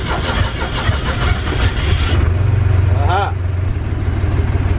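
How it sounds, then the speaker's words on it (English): A three-cylinder boat diesel engine cranks and catches, settling into a low, steady rumbling idle; a man's brief exclamation is heard over it. "But you listen to how tight that engine is."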